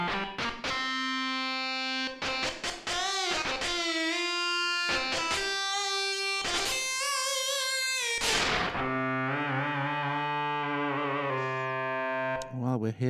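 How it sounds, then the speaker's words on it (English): A Casio CZ synth app on an iPad plays its guitar lead preset, giving loud, distorted tones in short stabs and sustained notes with pitch bends, followed by a longer held phrase, alone in the foreground. "Guitar lead."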